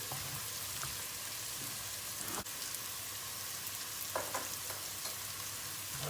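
Rice toasts in a pan, giving a soft, continuous crackle with a few light scrapes and taps of stirring, quiet and close, and no one speaking.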